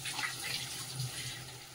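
Water pours steadily into a pan of ground mustard and green chili paste frying in oil, a continuous close splashing rush over a low hum, with no talking.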